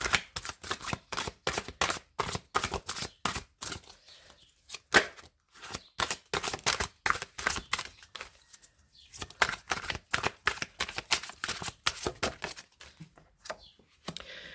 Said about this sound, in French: Je tire 3 cartes.